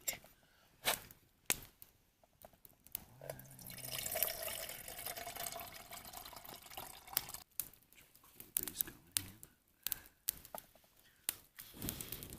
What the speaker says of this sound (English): I'm just gonna donate some water for him now